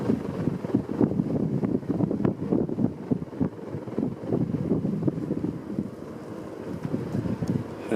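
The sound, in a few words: Homestead Universal ceiling fan from c.1989 running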